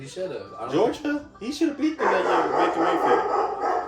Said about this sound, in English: That's my dog over there barking.